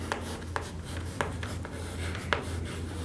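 Chalk or marker strokes on a lecture-hall board, a few separate taps and scratches spread over a few seconds, faint and close, with a steady low hum in the room and no talking.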